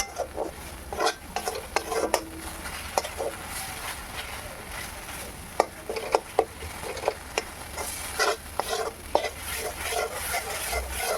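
Spices for a rui fish curry are stirred in a hot pan, giving repeated spatula scrapes and clinks against the metal over a constant low sizzle. The strokes are close and come in irregular bursts, with no talking.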